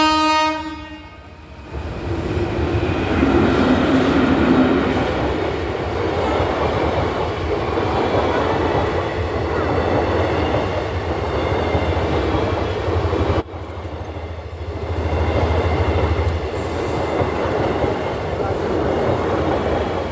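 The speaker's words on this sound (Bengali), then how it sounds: "ট্রেন চলে গেল?" A train rumbles through a railway level crossing with a horn blast at the start, then a long, loud, continuous roar and clatter of passing wagons close by.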